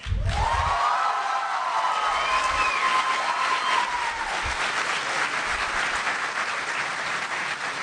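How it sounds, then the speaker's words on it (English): Comic-Con audience at a TV show panel for The Event bursts into loud, sustained applause mixed with cheering and whoops, a dense crowd roar filling the whole stretch without letting up. "just by show of applause, I want to find out how many of you like that"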